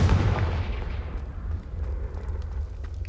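Confringo fire spell explosion in the video game Hogwarts Legacy, a heavy booming blast at the start that rolls off into a low rumbling tail, loud and without talk.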